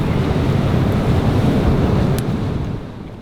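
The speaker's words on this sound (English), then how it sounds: "the swell's actually picking up a little, with distinct sets of larger waves coming through periodically" Steady roar of ocean swell breaking against a rocky shore, loud and continuous with some wind buffeting, fading slightly near the end.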